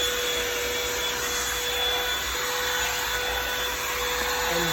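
Revlon One-Step hot air brush hair dryer running, a loud steady whoosh of blowing air with a constant motor whine, close and unbroken for several seconds with no talk.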